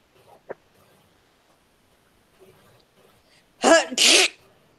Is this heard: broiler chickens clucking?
no